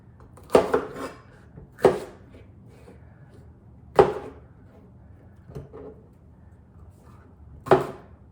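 Kitchen knife chops through vegetables on a cutting board during home meal prep, a handful of sharp separate thuds spaced irregularly over several seconds, close and fairly loud with quiet gaps between.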